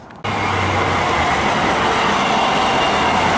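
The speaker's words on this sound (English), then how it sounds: "So here's another train coming in." A MAX Yellow Line light rail train pulls in through a suburban North Portland neighbourhood, its loud, steady rumble and rail roar starting abruptly and filling the whole stretch with a continuous rolling clatter.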